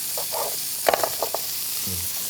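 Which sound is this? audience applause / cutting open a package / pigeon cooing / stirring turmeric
stirring turmeric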